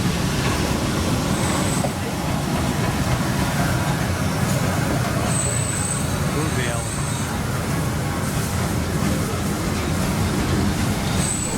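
Steady low rumble of a moving train in the Harz mountains, heading toward Quedlinburg, with continuous rolling noise and faint brief squeals above it, heard from inside a carriage.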